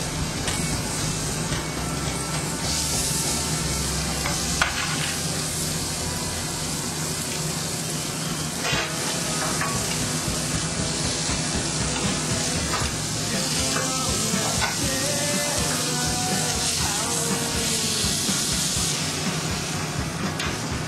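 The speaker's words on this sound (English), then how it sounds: "Sear in a hot skillet over medium heat in 2 tablespoons of oil. First bring the oil to near smoking, then reduce the heat and add the fish." Monkfish searing in near-smoking oil in a hot skillet over medium heat, a steady broadband sizzle running throughout with faint scrapes and clinks, no talk.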